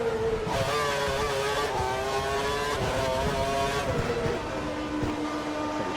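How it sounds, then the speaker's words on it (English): Formula One car engines from the F1 2012 racing game at Germany 2012, held at high revs with steady harmonic whine and small pitch shifts, loud and continuous with no talk. "We think the car behind is running on full revs."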